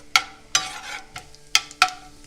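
Whole spices – cinnamon, cardamom, cloves, bay leaf and cumin seeds – sizzle in hot fat for jeera rice, broken by several sharp stirring scrapes and clinks at an uneven pace, close and fairly loud with no talk.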